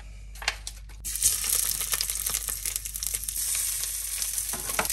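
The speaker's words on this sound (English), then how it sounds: "let's saute our sausages" Toulouse sausages sautéing in a pan, a steady close hissing sizzle with scattered crackles and a few light scraping knocks near the start, no voices.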